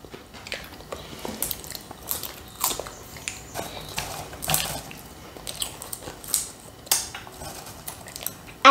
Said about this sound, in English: I break the crisp apart.